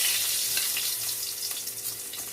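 Cumin seeds, a bay leaf and a cinnamon stick tempering in very hot, darkened oil give a steady, close crackling sizzle with a bright hiss that holds evenly for a couple of seconds, no voices.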